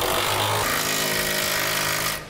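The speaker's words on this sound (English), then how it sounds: "now we'll tighten up the bolts for our rear cross member and center section" A power tool tightens bolts on the rear cross member and center section of a Curt Double Lock flip-and-store gooseneck hitch being installed on a 2013 truck, giving a loud continuous grinding buzz that stops abruptly near the end.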